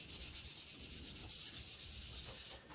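Steady abrasive rubbing as a soapstone pipe with green veins is sanded wet, a continuous close scratchy hiss with no pauses and no talk.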